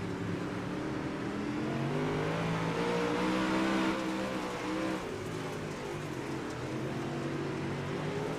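UMP modified dirt-track race cars roar through a heat race at Kokomo Speedway, a dense pack of engines revving and droning continuously at a steady loud level, swelling slightly mid-pass, with no voices over it.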